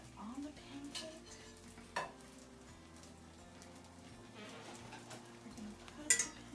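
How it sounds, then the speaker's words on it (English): Butter sizzles softly under a blini pancake in a pan, a faint, steady crackle broken by a couple of light utensil clinks against the cookware. "Butter on the pancake."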